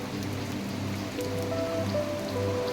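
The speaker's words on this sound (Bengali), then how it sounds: "আমাদের এদিকে প্রচণ্ড বৃষ্টি হচ্ছে" Rain pours steadily onto surfaces, a dense, continuous patter with a faint low hum underneath and no talking.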